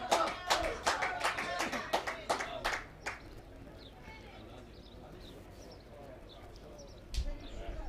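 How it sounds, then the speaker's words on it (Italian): Tuscany's supporters at a women's quarter-final against Veneto clap in a fast, loud rhythm for about three seconds. The crowd noise then drops to a murmur before one more burst of clapping near the end. "Arrivano i cori di incitamento per la Toscana."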